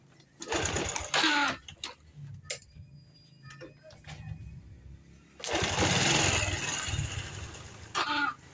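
A Honda Revo Fit FI fuel-injected motorcycle engine is revved in short bursts, with a long rev and a brief final one, dropping back to near silence between them in a close, workshop-like setting.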